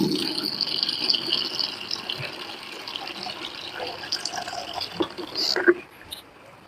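Bucket water splashes and runs across a cow shed floor as it is washed down, a steady, moderately loud wash of liquid with a few sharper splashes near the end and faint muffled voices in the background.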